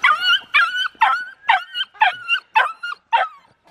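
A dog yelps sharply about seven times in quick succession, high-pitched and close, with short gaps between cries, after being shocked by an electric fence.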